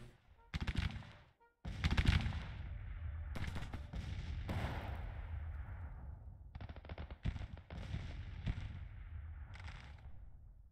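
Cavalry gunfire in the Civil War video game Grand Tactician, a dense run of overlapping musket and rifle volleys with sharp bursts over a constant battle rumble, some shots close and others farther off.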